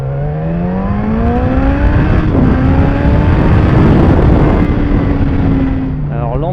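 A Suzuki GSX-S1000F motorcycle engine runs at high revs, loud and close, its pitch climbing steadily before a brief shift near the end, with wind rush beneath the engine note.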